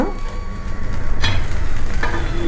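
A tomato dosa sizzles on a hot pan just after being flipped. The frying hiss is loud, steady and close, with a couple of brief scraping clicks.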